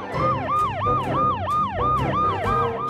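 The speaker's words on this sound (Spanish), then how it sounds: "Ambulancia Pipo Pipo." A cartoon ambulance siren from a children's animated show wails in a steady, repeating up-and-down pattern, loud and close, with about seven even cycles and no talking.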